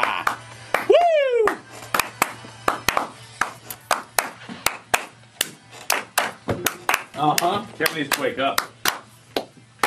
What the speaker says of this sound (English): The double clap of death.